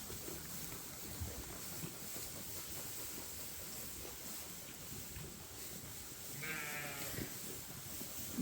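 Sheep bleat a few times in a barn amid a steady hiss of background noise, one clearer bleat standing out near the end.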